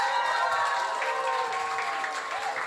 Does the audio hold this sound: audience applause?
yes